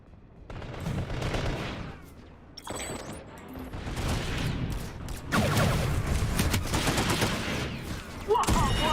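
Bursts of gunfire from a PlayStation 2 shooter, with rapid volleys and automatic fire in loud, dense stretches broken by brief lulls.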